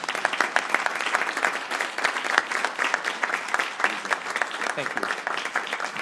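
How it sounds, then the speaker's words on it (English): Families at a school board of education meeting give a round of applause, brisk, dense clapping that holds steady for about six seconds, with a brief spoken thanks in the middle. "round of applause for all of you guys"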